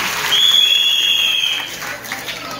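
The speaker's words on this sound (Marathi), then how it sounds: "जोरदार टाळ्या वाजवायच्या आहेत" A crowd at a devotional bhajan gathering claps in a dense burst of applause, loud at first and then thinning out toward the end, with a sustained high tone ringing over it.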